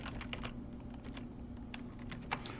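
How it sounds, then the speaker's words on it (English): Typing on a computer keyboard on a Windows 10 PC, a quick irregular run of light key clicks, close and fairly quiet over a low steady hum, with no voices. "then you're going to type settings."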